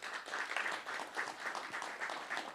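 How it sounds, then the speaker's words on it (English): Audience clapping during an evening talk by Herman Mashaba, a steady wash of many hands applauding in a hall, moderately loud with a few sharper claps rising out of it. "thank you for clapping"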